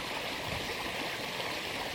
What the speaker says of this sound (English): I like the sound of the river.